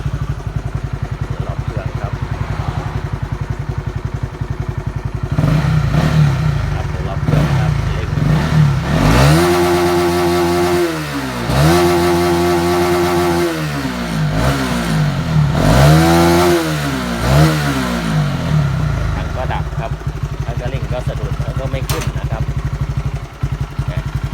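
A Honda CBR motorcycle with about 20,000 km on it idles close up with a stumbling, stalling fault, the engine note dipping and rising unevenly through several uneven revs.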